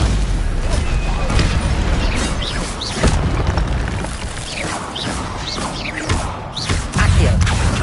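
Stupefy spell cast during Hogwarts Legacy gameplay on PlayStation 5, heard as loud booming magical blasts and crashes over a dense, continuous game soundscape of effects and music.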